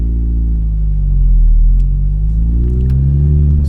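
Mini car engine rumbling deep and steady as it pulls away, loud and close with a slight swell in revs, no talking.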